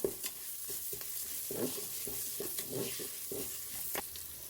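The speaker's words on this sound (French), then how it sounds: "Je remue de temps en temps." Risotto rice being stirred in a Cookeo electric cooker, a soft steady sizzle broken by regular scraping spoon strokes, close but fairly quiet, with no talk.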